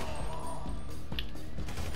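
Gunfire in the video game GTA 5, a quick burst of several shots cracking close over a busy game background, no talking.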